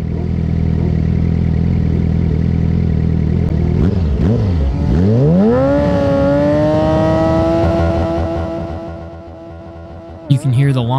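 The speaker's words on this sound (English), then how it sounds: "You can hear the launch control" Sportbike launching with launch control at a race start at Podium Club, a loud steady held-rev drone that dips, then climbs into a rising engine wail before fading, with a couple of sharp clicks at the end.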